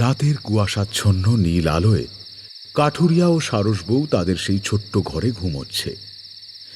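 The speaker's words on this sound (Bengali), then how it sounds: "মাঝে মাঝে শোনা যাচ্ছে ঝিঝি পোকার শব্দ" Crickets chirp in a steady, unbroken high trill through a foggy night scene of an audio horror drama, running beneath a narrator's voice the whole time.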